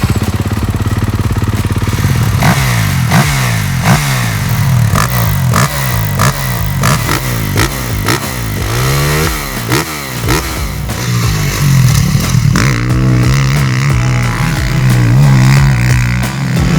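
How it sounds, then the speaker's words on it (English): A 2024 Kawasaki KX450 motocross bike is ridden on a track, its engine loud and revving in repeated rising and falling bursts as it accelerates and shifts, with brief idling stretches and some mechanical clatter. "will be riding the all-new bike"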